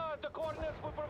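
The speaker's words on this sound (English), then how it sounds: "it takes forever to kill stuff with these mortars" Mortar artillery fire in the strategy game World in Conflict, a run of rumbling booms and distant impacts heard beneath a voice talking.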